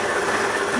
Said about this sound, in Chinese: 现在转速已经拉得非常高